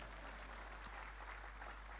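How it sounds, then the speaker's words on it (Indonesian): A church congregation claps during a sermon, a steady dense wash of many hands sustained throughout, fairly faint and distant. "Ya tepuk tangan biar semangat deh"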